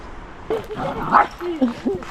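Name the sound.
dogs barking and whimpering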